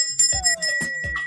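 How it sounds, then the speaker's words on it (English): Bells ring in a few quick metallic strikes with bright lingering overtones, close and fairly loud, with faint voices around them. "Ringing the bells."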